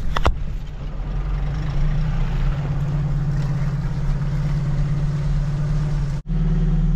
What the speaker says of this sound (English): let's just drive down this trail a little ways